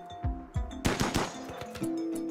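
Gunfire in the video game RimWorld during a fight on a glacier, with a burst of several rapid sharp shots cutting across steady background music.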